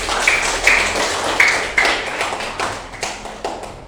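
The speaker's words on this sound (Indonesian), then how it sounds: "Tepuk tangan." Children clapping hands in a classroom, a loud irregular patter of claps close by that fades slightly toward the end, with no speech over it.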